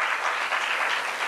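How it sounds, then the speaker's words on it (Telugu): A church congregation claps together in praise, a dense, continuous wash of applause from many hands filling the room. "చప్పట్లు కొట్టి దేవుని స్తుతిద్దాం."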